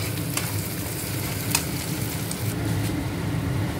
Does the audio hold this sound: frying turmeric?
yes